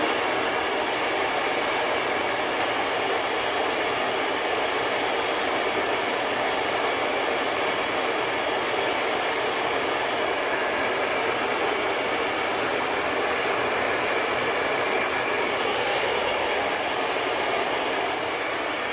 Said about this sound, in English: blow dry in all directions to make sure, a smaller brush even